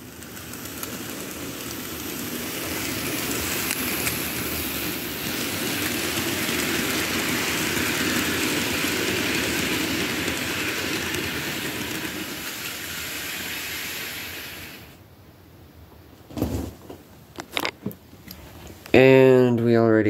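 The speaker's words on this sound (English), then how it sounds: "let's send her away" A Kato N scale GS-4 Daylight model steam train runs along its track with a continuous fine rattling hiss for about fifteen seconds, then drops away into a few short clicks and a brief voice at the end.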